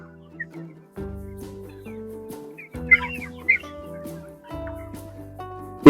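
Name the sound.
free-range chickens clucking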